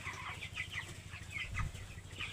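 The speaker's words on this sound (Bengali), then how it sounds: "শখের একটা পোলট্রি খামার, মাত্র 300 মুরগির" Chickens clucking in a small poultry farm of about 300 birds, several soft overlapping clucks and calls at moderate distance over a low steady hum.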